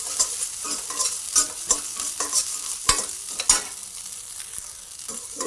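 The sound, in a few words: stirring and roasting rock salt in a pan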